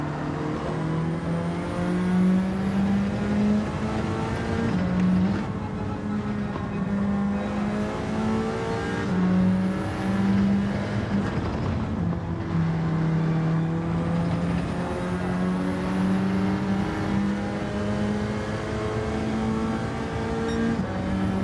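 Race car engines in Gran Turismo 7 drone steadily and loudly throughout, a sustained high-revving whine with slight pitch dips around shifts, no talking over it.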